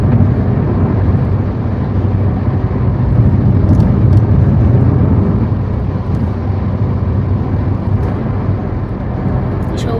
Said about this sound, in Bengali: সৌভিক আজকে খুব খুশি, এতদিন পরে 100-র উপরে গাড়ি চালাতে পেরে।